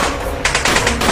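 Gunfire sound effects from an Indian film crackle in a rapid burst of shots, loud and dense, with no talk over them.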